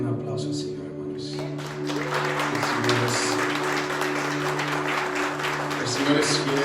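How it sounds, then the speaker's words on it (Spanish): Congregation at a church service claps in praise, a broad, continuous spread of applause under a sustained musical drone, with a voice speaking over the start. "un aplauso al Señor, hermanos."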